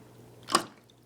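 A single short drip or splash of cold water lands on a brushed RC car motor, one soft wet hit in otherwise quiet surroundings.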